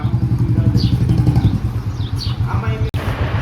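A Captain 4x4 25-horsepower tractor engine chugs nearby in a rhythmic, low diesel pulse as people talk over it.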